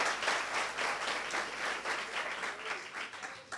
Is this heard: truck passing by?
no